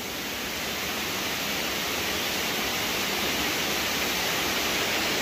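Waterfall at Cachoeira do Roncador, a dense, unbroken roar of falling water filling the whole soundscape at constant loudness, with no voices.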